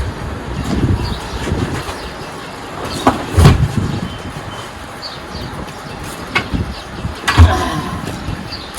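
A train passing nearby, a continuous low rumble with rhythmic clattering bursts and metallic knocks, heard outdoors beside people working on a large tyre.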